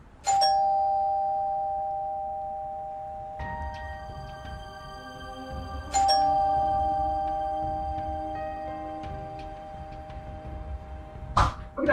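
A doorbell chimes three times, each ring a bright tone that slowly decays, spaced several seconds apart in a quiet room with no talk.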